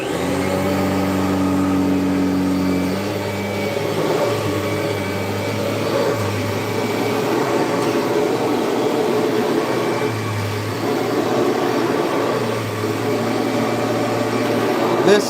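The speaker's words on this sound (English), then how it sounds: "I'm going to go ahead and vacuum my room while I'm at it." A vacuum cleaner runs loudly and steadily while cleaning a room, a continuous droning whine whose pitch dips and rises as it moves across the floor, with no voices over it.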